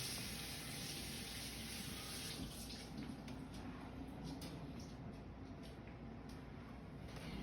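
Tap water runs steadily while meat is rinsed during roast preparation, a continuous faint splashing gush heard alone with no talking.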